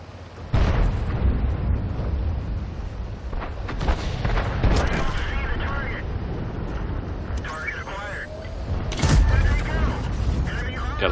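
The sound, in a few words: tank gun firing in video game World of Tanks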